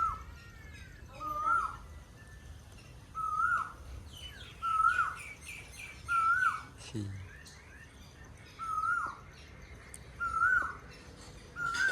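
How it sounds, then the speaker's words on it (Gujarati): Asian koel calling near a village in Botad, with about eight clear, rising whistled calls at a steady rhythm, heard at a moderate distance over faint background chatter from other birds. "કોયલ ટવકા કરે છે"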